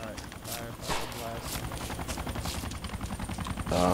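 Gunfire in the survival video game DayZ: rapid bursts of shots rattling under close voices talking over them, with a louder volley at the end.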